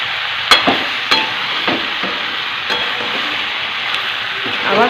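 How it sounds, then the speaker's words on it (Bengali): Chicken and potatoes frying in a pan give a steady loud sizzle, broken by several sharp scrapes and knocks as the pieces are stirred. "এবার আমি একটু হালকা হাতে এটাকে নেড়ে নেবো।"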